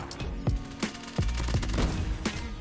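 QXR gun firing in a video game, a series of sharp, punchy shots at an uneven, fairly slow rhythm over a busy game background.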